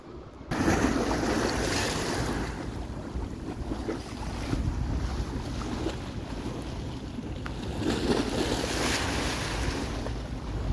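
Sea waves washing near a bridge on the Ivory Coast shore, a continuous loud surging wash with swells rising and falling, mixed with strong wind buffeting, and no voices.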